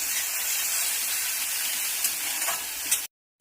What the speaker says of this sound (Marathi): मिरची चांगली परतायची आपल्याला ह्याच्यात तेलामध्ये